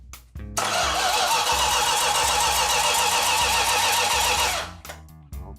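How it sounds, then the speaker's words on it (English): A 1969½ Dodge Super Bee with a 440 Six Pack and 4-speed cranks briefly, then catches and roars loudly for about four seconds before cutting out, with a short sputter at the end. "So, switch on and starter."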